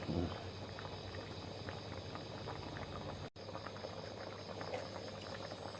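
Water boiling in a pot for an eel curry with kaffir lime leaves makes a steady, low bubbling rumble, close by and fairly quiet, with a brief dropout partway through.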